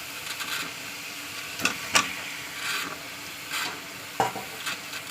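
Fish going into spice paste that has been fried down until the oil separates in a pan, giving a steady sizzle with stirring scrapes and a few sharper clinks, close by and with no talking.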